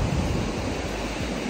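Sea waves wash onto a beach in Vietnam, a steady broadband surf roar with some wind buffeting, loud and continuous with no voices.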